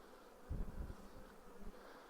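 Honey bees buzz in an open beehive during a brood-frame inspection, a low, steady, fairly faint hum that swells briefly with no talk over it.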